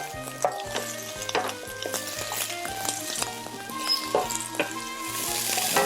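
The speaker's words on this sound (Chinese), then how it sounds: "海椒稍微炒一下半熟就可以了。" Peppers and previously fried chicken pieces are stir-fried in a wok with a steady, close sizzle, punctuated by repeated sharp clicks and scrapes of a utensil against the metal, and a tonal hum runs underneath.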